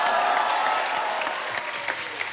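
Studio audience applause on a Hindi comedy talk show, a burst of steady crowd clapping that gradually thins out, with a few louder individual claps near the end.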